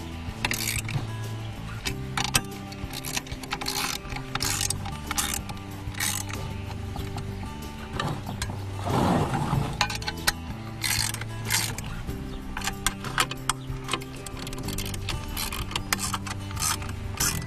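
Wrench ratcheting as a bolt is tightened while building an aerial, with rapid, steady clicking mechanical ticks throughout and a brief burst of louder noise midway.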